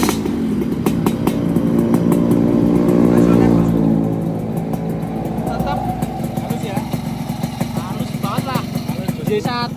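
A 2005 Yamaha RX-King motorcycle engine runs close by, building to a louder rev around the middle before settling back to a steady, throaty idle, with people talking over it throughout.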